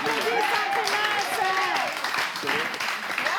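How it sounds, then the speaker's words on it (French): Applause from an audience at a live French-language stage show, a steady wash of clapping that runs the full length with voices and cheering mixed in. "On applaudit Santrinos."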